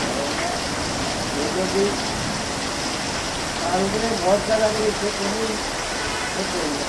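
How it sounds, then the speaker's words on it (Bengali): Heavy rain pours down in a dense, constant hiss that fills the whole stretch, with a few voices briefly talking beneath the downpour. "বৃষ্টি পড়ছে প্রচুর বৃষ্টি ভিজে যাবে"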